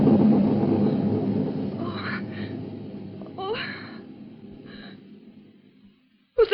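Thunder sound effect from a CBS radio mystery drama: a deep, loud rumble that rolls on and slowly fades over several seconds, with a brief sharp jolt of sound at the very end.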